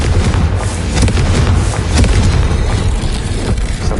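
Confringo blasting spell in the Hogwarts Legacy video game, producing loud, continuous booming blasts with thuds and crackling debris that layer into a dense low roar throughout.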